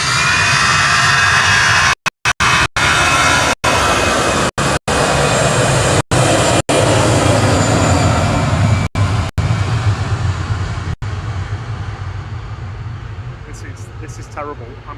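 A Boeing 737-800 airliner touches down at Manchester Airport, a loud, steady engine and reverse-thrust roar that slowly fades over the clip, with a voice talking over it.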